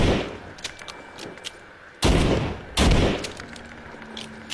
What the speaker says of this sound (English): this gun you can just continuously fire, because it's a double barrel, and you have to put 2 shells in, flip it up, fire again